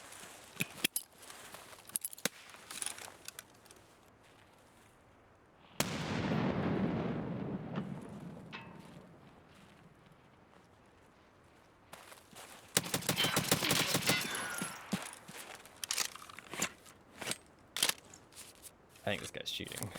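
Gunfire in Escape from Tarkov: sharp, isolated shots, then a loud booming burst that fades slowly, followed by rapid bursts and scattered cracks.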